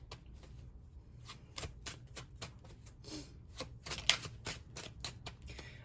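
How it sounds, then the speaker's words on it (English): A deck of tarot-style reading cards is shuffled by hand in a series of quick, crisp riffling bursts, close and fairly quiet, with no talking. "Let's go ahead and shuffle up these cards a little bit."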